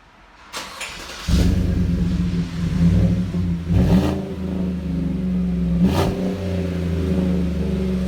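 A deep 5.3-liter V8 engine of a 2018 Chevy Silverado 4x4 pickup with a Flowmaster Super 44 muffler rumbles up close, revving several times with throaty swells over a steady low idle through the exhaust.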